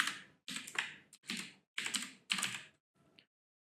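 Short bursts of typing on a computer keyboard, a few quick clusters of close key clicks separated by brief pauses and trailing off into quiet.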